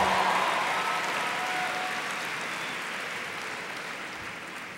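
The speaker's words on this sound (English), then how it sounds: "Give them a round of applause" An audience at a Power Shift keynote gives a round of applause for the Green for All team, a broad wash of clapping that starts loud and slowly fades.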